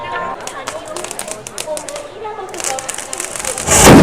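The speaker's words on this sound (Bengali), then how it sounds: "এক একটা করে সেল ফাটাচ্ছে দেখো" Fireworks shells burst during a Dol festival procession at Santipur Sutragarh: sharp crackling pops scatter through a busy crowd din with voices, ending in a louder, closer burst.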